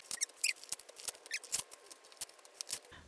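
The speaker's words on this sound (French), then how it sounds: "J'arrive pas à tout déchirer." Old middle-school diary pages being torn by hand, a run of quick, crisp paper rips and crackles in short irregular bursts, close and fairly loud with no voices.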